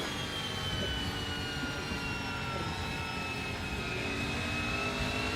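V8 touring car engine in an ATCC racing game, a steady loud drone with a faint rising whine that holds evenly throughout, with no voices.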